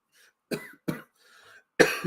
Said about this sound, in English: I had not really coughed all day